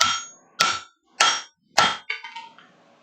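Four sharp, ringing hammer blows on hot metal at a blacksmith's forge, evenly spaced about half a second apart and followed by lighter clinking taps, close and loud with quiet gaps between strikes.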